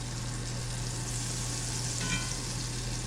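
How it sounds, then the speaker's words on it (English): Fish sears in a hot pan of butter and olive oil, giving a loud, steady, close sizzle that holds evenly throughout with no voices. "The idea is to sear the fish quickly"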